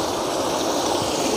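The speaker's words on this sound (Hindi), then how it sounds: "ये पानी जा रहा है" Water rushing through a net grating at Chaparwada Dam near Jaipur, a steady broadband stream-like flow, close and continuous with no talk.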